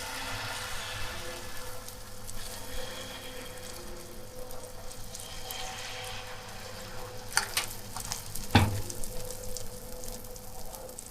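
Suji paratha frying in a hot pan, a steady low sizzle running throughout, with a couple of brief sharp clatters of utensil on pan near the end.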